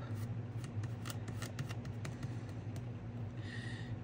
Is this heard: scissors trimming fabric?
yes